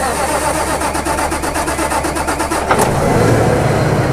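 A keyless push-button tractor engine cranks for several seconds with a rapid rhythmic churn, then catches near 2.8 seconds and settles into a steady, loud mid-pitched running rumble.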